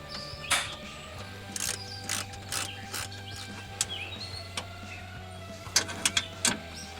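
A hand ratchet clicks in short bursts while nuts are tightened back on during a vehicle fascia installation, sharp close mechanical ticks over a faint steady hum.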